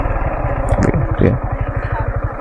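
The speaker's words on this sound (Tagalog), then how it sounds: "Bumababa yung motor, ah." Motorcycle engine rolling down a slope on a beach-resort moto camping trip, a close, rhythmic low putter with steady pulses, with people talking over it.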